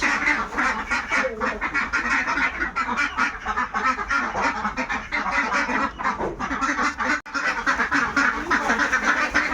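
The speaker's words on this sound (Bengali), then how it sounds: "বের হয়ে গেছে কিছু হাঁস" A flock of domestic ducks let out on a winter morning quacks continuously and loudly at close range, many overlapping calls in a busy, steady chorus with no voices present.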